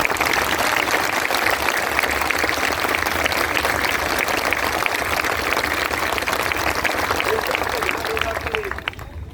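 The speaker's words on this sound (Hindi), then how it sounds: "एक बार जोरदार तालियां" Loud, dense applause from an audience at a public gathering, sustained and steady throughout before easing slightly at the very end.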